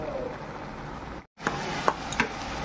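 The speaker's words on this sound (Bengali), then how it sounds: "এটা খানিকক্ষণ ভাজা হোক" Onions and spices frying in a pan, a soft, steady sizzle broken by a momentary dropout, followed by a few light clicks of stirring.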